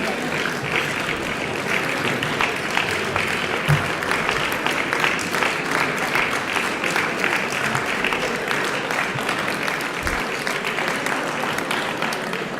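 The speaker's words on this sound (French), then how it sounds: "Vous pouvez l'applaudir." An audience applauds steadily for a sailing club champion at a local awards ceremony, a dense, even clatter of many hands running throughout at moderate distance.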